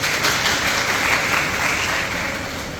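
Seminar audience applauding: dense, sustained clapping from many hands, loud and steady for a few seconds before easing off slightly, with no talk over it.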